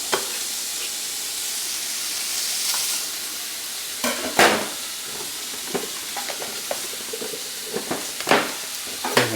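Omelets and potato pancakes fry in a muffin pan with a steady, close hiss and sizzle, broken by scattered clatters and scrapes of utensils, the loudest bursts coming near the end.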